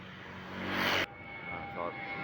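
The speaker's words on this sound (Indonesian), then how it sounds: "Pesawat lewat tuh." A Super Air Jet airliner passes overhead, its engine roar swelling to a peak and then cutting off abruptly, followed by a quieter steady hum with a distant voice briefly audible.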